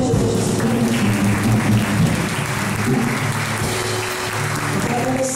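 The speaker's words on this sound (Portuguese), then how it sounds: "Você pode aplaudir o Senhor Jesus" A church congregation applauding during a worship service, dense sustained clapping throughout with a low musical hum and faint voices underneath, loud and steady before easing slightly toward the end.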